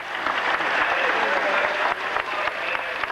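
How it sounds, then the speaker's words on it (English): A huge racecourse crowd applauding, a dense, steady wash of clapping from many hands that holds at even loudness with brief dips. "the huge crowd applauded 2 of the Turf's heroes"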